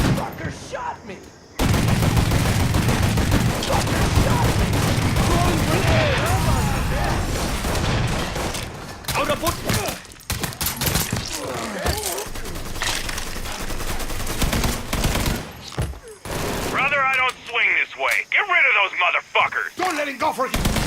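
Sustained gunfire from the open-world crime game Mafia 3, with dense bursts and shots continuing throughout, mixed with in-game shouting and voices over a constant loud combat din.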